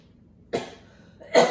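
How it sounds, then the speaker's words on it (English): Two short coughs set off by ground pepper while seasoning breadcrumbs in a home kitchen, the first sharp and brief, the second louder about a second later, close and alone. "I think the pepper made me cough."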